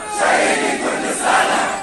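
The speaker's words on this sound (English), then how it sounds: "A martyr for Kurdistan, the crowd chants." Crowd of protesters in the streets of Piran-Shar, Kurdistan, chanting together in unison at a mourning protest, loud and sustained with rising and falling swells across the whole stretch.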